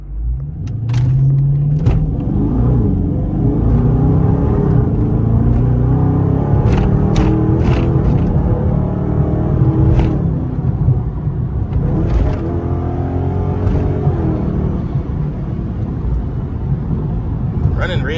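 Dodge Charger Scat Pack cruising at night, its engine a steady loud rumble throughout with a few revving swells, while voices talk over it inside the car.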